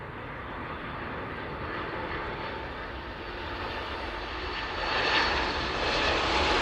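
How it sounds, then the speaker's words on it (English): A Malta Air jet airliner touches down at East Midlands Airport on a breezy crosswind morning, its engines a steady broadband roar that swells slightly louder toward the end. "There we go, and the Malta Air touching down."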